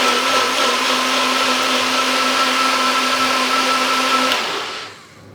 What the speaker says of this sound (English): So we just want to blend this to a puree.